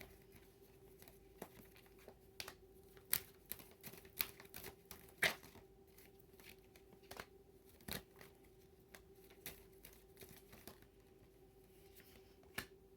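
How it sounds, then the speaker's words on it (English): Tarot cards are shuffled and drawn, making faint, scattered flicks and soft taps at irregular intervals against a quiet room. "let's pull a few advice cards"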